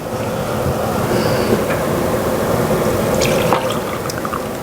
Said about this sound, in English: so now I will drain some of my bacon drippings off.